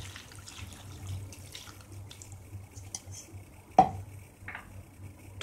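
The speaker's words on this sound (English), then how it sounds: "put 1 cup water" One cup of water is poured into a cooking pot of raw banana, yam, pumpkin, ash gourd, drumsticks and cucumber for Kerala avial. The pouring is soft and trickling, with a clink near the end, over a low background hum.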